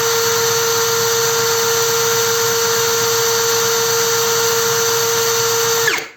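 A DRIVAK ED002 cordless screwdriver running at top speed in first gear, a steady high motor whine held close and loud for about six seconds before cutting off.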